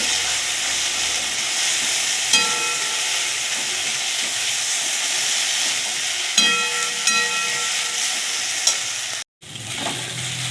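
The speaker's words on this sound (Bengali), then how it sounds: "আদা রসুন আর কাঁচা লঙ্কা বেটে রেখেছিলাম ওটাকে দিয়ে দিলাম দিয়ে লাল করে নেব" Ginger, garlic and green chilli paste fries in a hot pan, a steady close hiss and sizzle with a few stirring scrapes and clicks, then a brief break near the end before the sizzling resumes.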